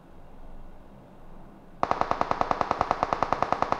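Rapid automatic gunfire in PUBG Mobile bursts in suddenly after quiet ambience, a fast, loud, even string of shots that keeps going to the end.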